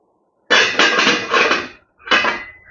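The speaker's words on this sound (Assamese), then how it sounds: "এতিয়া মই এয়া ঢাকি থৈ দিওঁ" A metal lid goes onto a pot of cooked red amaranth saag, making a close, loud clattering scrape that rattles for over a second, followed by a second short clank.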